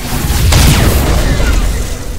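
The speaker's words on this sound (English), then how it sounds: "Nova cannon. Target. Fire." A loud, booming nova cannon blast in the video game Battlefleet Gothic Armada erupts with a deep rumbling body and a sweeping high whoosh trailing after it, all heavy and close.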